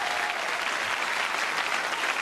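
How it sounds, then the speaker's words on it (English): A studio audience at a television game show breaks into a short burst of warm, even applause, many hands clapping together at moderate volume with no voices standing out. "let's give all a nice round of applause"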